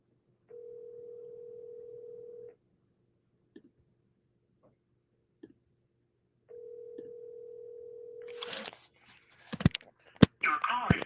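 An outgoing phone call rings back through a handset, two long steady tones separated by silence, then handling clicks and a short burst of a voice on the line.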